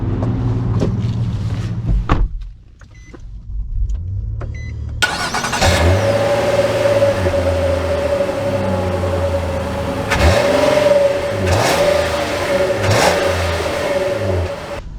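A 2024 Nissan Murano Platinum with a CVT starts up and pulls away, its engine note rising steadily under acceleration after a few quiet clicks, close and loud with a sustained drone and no talking.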